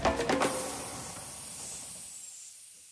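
Loud steam hiss venting at a railway museum, broad and sustained, starting with a few sharp bursts and then tapering away to near silence over a few seconds.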